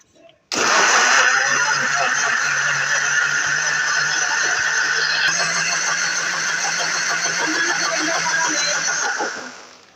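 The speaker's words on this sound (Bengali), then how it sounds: "এখন ব্লেন্ডার করব।" A kitchen blender runs continuously for about nine seconds, loud and steady, churning muskmelon juice made with salt and a little water, then winds down at the end.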